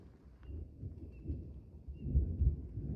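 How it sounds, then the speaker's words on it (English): Low rumbling thunder rolls in from an approaching storm, a distant swelling growl that builds toward the end of the stretch. "Got a storm coming in."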